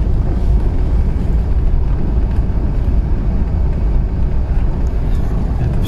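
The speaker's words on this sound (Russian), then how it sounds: "Паромная переправа." Steady low rumble of a river ferry crossing, constant engine drone and wind buffeting the microphone with no breaks, loud and close throughout.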